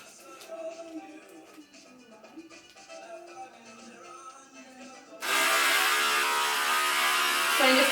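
An electric hair clipper or shaver starts up partway through, buzzing steadily and loud close by while trimming a template shape into a man's non-surgical hair replacement system, after a quieter stretch of faint mechanical clicks.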